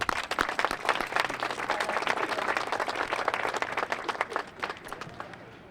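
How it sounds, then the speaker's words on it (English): Sustained applause from a large audience, steady dense clapping throughout that tapers slightly at the end, with no voices over it. "I hope you join me in giving them another round of applause."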